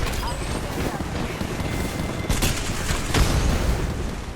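Firecrackers go off in a video game: dense, crackling bursts of pops that run steadily throughout, with sharper bangs near the middle and toward the end, against a loud, busy game background.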